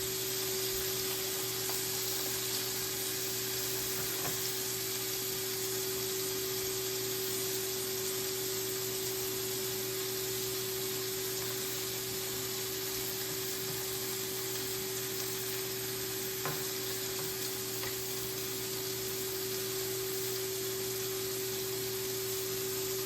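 Cheese sizzling in a hot frying pan, a steady, even frying hiss that continues unbroken at moderate volume with a faint electrical hum beneath it.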